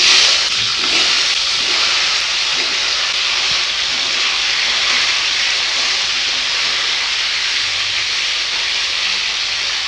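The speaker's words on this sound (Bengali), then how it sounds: "কড়াতে তেল দেবো, তেল গরম হয়ে গেছে, ফুলকপিগুলো ভেজে নেব।" Cauliflower florets frying in hot oil in a wok give a loud, steady hiss and crackle that runs unbroken for the whole stretch, with no talk over it.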